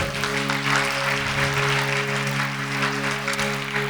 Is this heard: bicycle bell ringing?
no